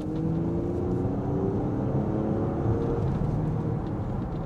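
Porsche Panamera 2.9 4 E-Hybrid combustion engine in sport mode, pulling in third gear, makes a steady, loud drone with rising engine tones as it revs, heard from inside the cabin with no talking.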